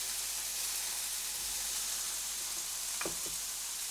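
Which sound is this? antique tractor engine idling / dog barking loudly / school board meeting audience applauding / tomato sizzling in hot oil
tomato sizzling in hot oil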